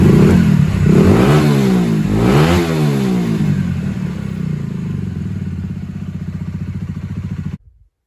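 A Honda CBR 125 motorcycle engine, recently revived during engine servicing, runs close by. It revs up twice in quick succession, then settles into a loud, steady idle before cutting off abruptly.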